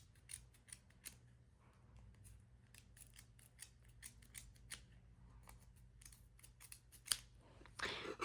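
Scissors snip through pom pom yarn from a Dollar Tree pom pom maker, a steady run of close, quiet cuts with a louder flurry of snips near the end and no voices.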